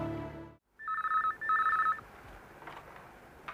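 An indoor telephone rings in two short electronic bursts, clear and fairly close, after a brief moment of silence; a quiet scene follows.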